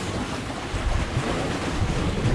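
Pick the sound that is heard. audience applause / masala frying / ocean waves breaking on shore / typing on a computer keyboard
ocean waves breaking on shore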